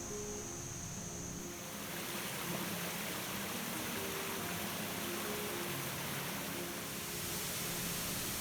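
Steady broadband roar of a waterfall near Greenville, South Carolina, a constant close wash of rushing water with no breaks, alone and with no voices.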